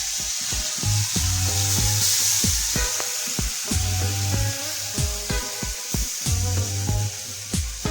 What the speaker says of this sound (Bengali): দই, কাজু, কিশমিশের পেস্টটা আমি দিয়ে দেবো।